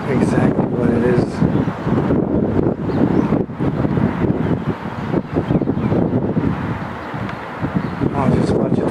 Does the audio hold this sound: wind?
yes